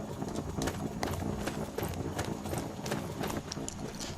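Horse hooves clip-clop at a steady canter in Skyrim, loud and close, with a continuous rhythmic beat of hoof strikes and no talking.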